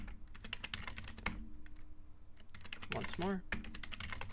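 Rapid keystrokes on a computer keyboard as a passphrase is typed during a home OpenVPN server setup, a steady run of close, crisp clicks with a short spoken phrase partway through.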